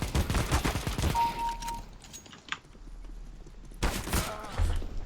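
Rapid bursts of gunfire in the game CS:GO, a quick string of loud cracks at the start, a quieter stretch with faint in-game noise, then another sharp volley near the end.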